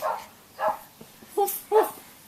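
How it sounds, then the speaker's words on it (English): A dog gives a quick series of four or five sharp barks and yips with short gaps between them, fairly close and moderately loud, with no talking over them. "Dog."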